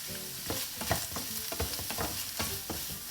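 A spoon stirs khar made with banana stem, alkaline banana-ash water and salt in a sizzling pan, giving close, irregular scraping strokes over a soft frying hiss.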